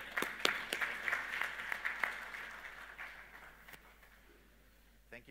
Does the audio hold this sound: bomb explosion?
no